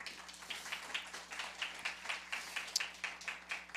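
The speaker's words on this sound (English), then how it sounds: "Can we give them a round of applause one more time?" An audience at a Bristol Rhythm & Roots Reunion music event claps in a thin, fairly quiet round of applause, with individual hand claps audible in an uneven patter throughout.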